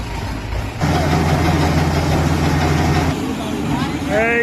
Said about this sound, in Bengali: এই যে আরম্ভ করে দিছে ধান কাটা।